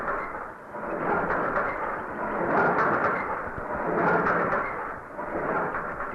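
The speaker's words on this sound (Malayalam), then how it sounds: "എന്തായാലും നമ്മുടെ നാട്ടിൽ ആദ്യമായിട്ട് വരുന്ന ഹെലികോപ്റ്റർ" A helicopter approaches overhead, a heavy pulsing rotor roar that swells and fades in slow waves, loud and sustained with no talk.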